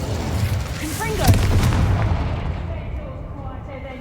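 A fiery Confringo spell explodes in Hogwarts Legacy with a deep, rumbling boom that swells and slowly decays, with a brief whooshing sweep and fading game sounds beneath.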